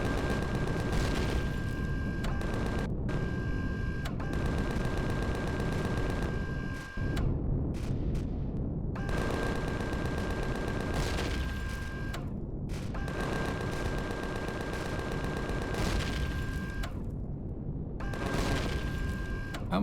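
Automated sentry guns blasting away on an alien base in Empyrion Galactic Survival, a dense, continuous barrage of gunfire with repeated bursts and brief pauses, loud and close throughout.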